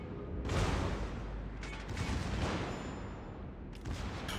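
Warship main battery guns firing shells during a naval battle in World of Warships, the boomy salvos rolling one after another with dense rumbling reports and a long sustained roar between blasts, loud and close.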